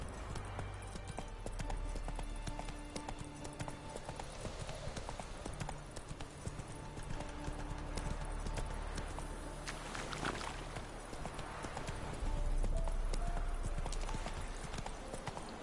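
Hooves of Roach, the horse in The Witcher video game, clip-clop in a steady rhythm over a low ambient bed, moderately loud and continuous with no speech.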